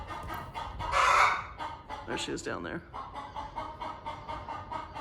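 Hens cluck and squawk nearby in a loud burst followed by softer, scattered clucks, with a person speaking briefly over the birds.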